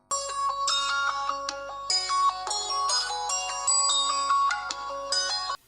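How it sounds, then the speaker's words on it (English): A phone ringtone plays a bright, melodic chiming tune for an incoming call, repeating its short phrases clearly and close over a faint low hum. "Now, Alamayo is calling Khalid to tell him something else about Zagaye"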